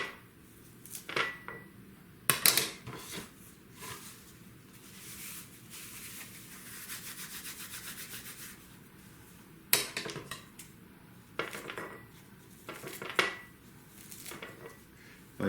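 Food is cut into a bowl, heard as scattered close clinks and scrapes of a blade or utensil against the bowl, with soft rustling between sharper knocks and no talking.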